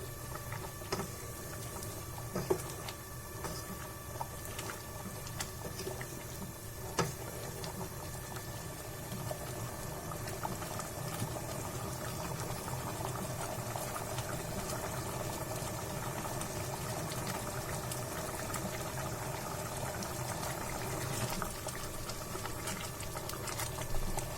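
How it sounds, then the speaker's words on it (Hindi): Dal makhani simmering in a pot with spices and garam masala, a steady bubbling and soft plopping that runs continuously and evenly throughout, close by, with no one talking. "इसे भी एक बार और उबाल आने देते हैं।"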